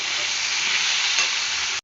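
Ginger and onion frying in a hot pan, giving a loud, dense, continuous sizzle that stops abruptly at the end.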